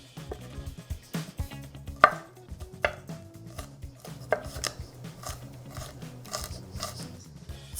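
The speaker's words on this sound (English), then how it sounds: "then line them up and cut them crosswise" A knife chops ingredients crosswise on a cutting board for guacamole, producing irregular crisp thuds and taps at close range, some louder strikes, with no speech.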